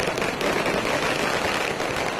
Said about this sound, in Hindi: पार्टी दफ्तर के बाहर आतिशबाजी करने लगे